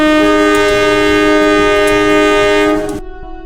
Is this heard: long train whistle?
yes